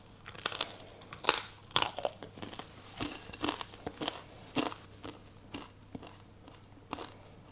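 Close, crisp crunching and chewing of a traditional Danish lunch, with irregular bites and crackles spread over several seconds and no talking.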